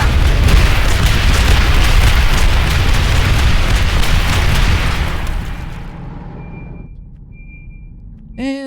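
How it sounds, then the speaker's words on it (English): A grenade explosion in the sci-fi game Aliens Dark Descent, a loud roaring blast with rumbling debris that slowly fades over several seconds, ending in quiet with a brief faint tone. "Grenade!"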